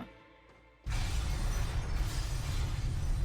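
A bomb goes off in an animated Legend of Korra scene: after a quieter moment, a sudden loud blast erupts into a broad, sustained roar of shattering debris and rumble that carries on to the end.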